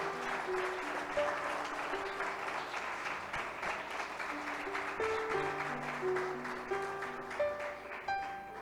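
A church congregation claps together in a steady, sustained round of applause over gentle background music, a dense crowd sound that fills the room without pause.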